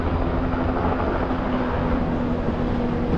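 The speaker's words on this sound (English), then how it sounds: "There's a helicopter. I don't know what he's doing, but he's really low." A low-flying helicopter passes over the Skykomish River, its loud, steady droning rumble with a constant hum filling the whole clip without a break.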